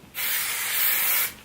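A single steady hiss of hairspray from an aerosol can, lasting just over a second, close by, starting and stopping abruptly.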